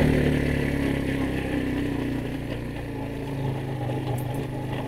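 Motorcycle engine running steadily while riding along a pathway into a mountain resort, a continuous mid-pitched drone with slight swells, close and fairly loud throughout with no talk.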